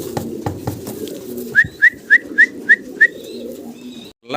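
Syrian Shakhsharli pigeons with white and double bars coo on a farm, a quick even run of six soft whistling notes at close range over low background murmur and rustling.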